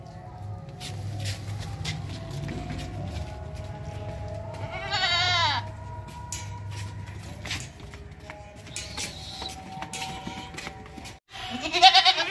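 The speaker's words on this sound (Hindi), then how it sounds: "ये बकरा चेक करें, टेडी बकरा है, टेडी, और ये टेडी बकरी है।" Fat Teddy goats, a male and female pair bred for meat, bleat from close range in a pen. One long wavering bleat stands out and a sharper cry follows near the end, with shuffling and low background noise around them.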